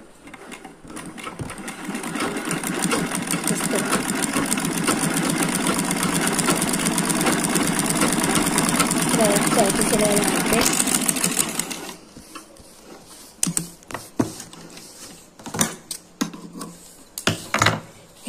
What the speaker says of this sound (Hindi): एक पैर की सिलाई लगाएंगे इसमें